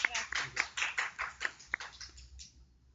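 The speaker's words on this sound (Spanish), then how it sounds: "Aplausos para nuestros invitados, por favor." A short burst of applause from a small group in a television interview studio, rapid uneven claps that thin out and fade to quiet after about two seconds.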